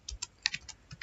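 Code typed on a computer keyboard, with quick, light, close key clicks coming in an uneven rhythm over a quiet room.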